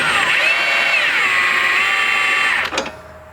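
A power tool drives a strut nut down during front strut replacement on a 2005-2014 Ford Mustang S197, a loud, close whine that holds steady, dips slightly in pitch, then stops abruptly with a short clatter.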